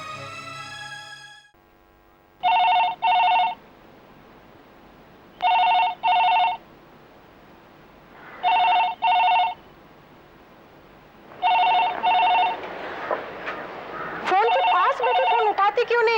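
A telephone rings in four evenly spaced double bursts with quiet pauses between, followed by voices talking at the end.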